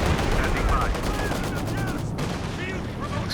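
Artillery and gunfire from a WWII real-time strategy video game battle, a dense continuous barrage of booming blasts and crackling shots layered with whistling sounds, loud and steady throughout.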